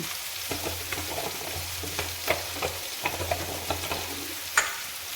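Whole fish (vala) frying in a generous amount of oil, a steady crackling sizzle with scattered sharp pops and spatters throughout, close and moderately loud, with a low hum beneath and no talking.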